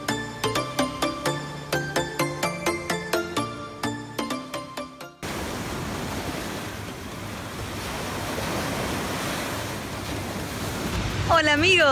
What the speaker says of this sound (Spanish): aquí estoy en las playas de la Florida